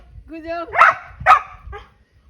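A village dog gives a high whine and then two sharp, close barks followed by a softer yip, with short gaps between them and low background noise.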